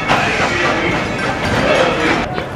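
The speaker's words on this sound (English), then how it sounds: "Did you hear the train? The train just went off." An amusement park train at Dollywood rumbles and clatters steadily close by, a broad continuous mechanical roar with faint crowd sounds mixed in.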